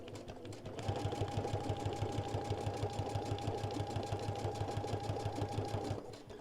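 A sewing machine fitted with a Teflon foot stitches steadily for several seconds, its fast, even mechanical chatter running close and alone after a brief start.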